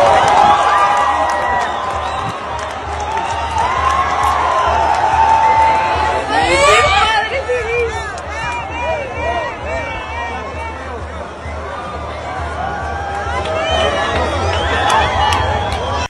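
A large outdoor crowd in Mazatlán cheers, shouts and whistles during a total solar eclipse, forming a loud, continuous roar of many voices with excited peaks around the middle.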